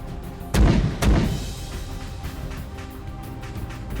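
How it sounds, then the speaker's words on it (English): Two deep mortar booms from an artillery volley in the military game Arma 3, fired about half a second apart and loud up close, each rolling off into a low rumble. "Fire another volley away."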